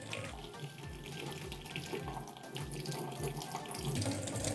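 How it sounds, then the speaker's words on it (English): A surgical brush is rinsed under a running tap in a skills lab sink. The steady water stream splashes close by, with faint rhythmic sloshing as the brush moves through it. "And then rinse the surgical brush."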